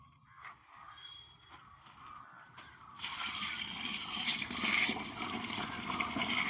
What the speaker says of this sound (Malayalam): ഇതിലേക്ക് കുറച്ച് വെള്ളം ഒഴിക്കണം